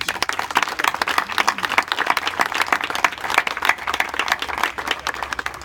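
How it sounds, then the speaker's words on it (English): Steady applause from a crowd gathered at a college tennis scoreboard dedication, dense rapid clapping sustained at an even level throughout. "I'd like to give them another round of applause"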